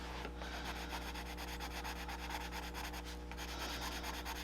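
Soft, continuous rubbing as an oil pencil burnishes white over layered color on paper, a faint papery scratch repeating in quick short strokes beneath a steady low hum, close and quiet.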